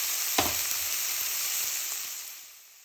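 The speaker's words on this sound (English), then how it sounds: "Here we are roasting the spices to emit their flavors and aromas." Spices roast in a hot pan for an Indian chicken curry, opening with a sharp sizzle as they hit the oil, then a steady close frying hiss with light stirring that tapers off toward the end.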